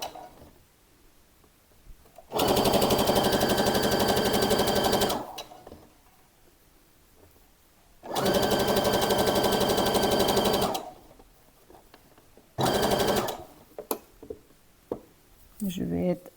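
A sewing machine runs a long seam on a summer dress in three bursts, the first two about three seconds each and the last one short, with quiet pauses and some handling noise in between.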